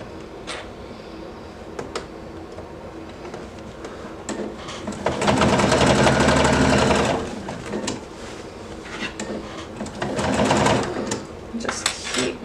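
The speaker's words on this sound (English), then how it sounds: "I'm still sewing with my heavy duty needle as well, my denim needle" A sewing machine fitted with a heavy-duty denim needle stitches fabric up close, running in two sustained whirring bursts with lighter mechanical ticks and pauses between them.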